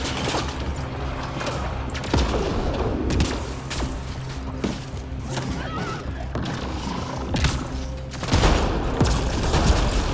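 Gunfire in Mass Effect: Andromeda multiplayer combat, with sustained bursts of rapid shots and booming impacts layered over a dense, loud game soundscape.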